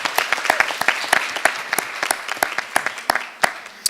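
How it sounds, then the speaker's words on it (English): Audience at a student social-change event applauds spoken word performers, the clapping fairly sparse with distinct individual claps standing out and a moderate crowd sound. "give our spoken word artists one more big round of applause,"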